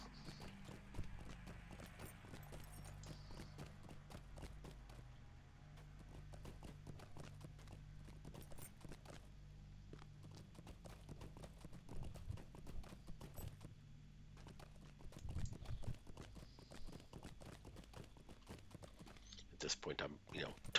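Galloping horse hooves from riding a mount in the online game Lord of the Rings Online, a steady fast clip-clop running throughout at moderate level under game sounds and a talking voice.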